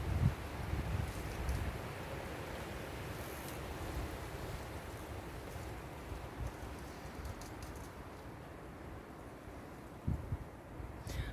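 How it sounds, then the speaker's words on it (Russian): Strong wind blows steadily around a young tree outdoors as a broad, soft rushing hiss. It is fairly faint and continuous, with a few stronger gusts near the start and end, and no voices. "Жуткий ветер."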